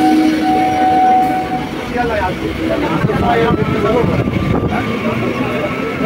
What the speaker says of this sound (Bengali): ডাউনের ট্রেন চলে গেল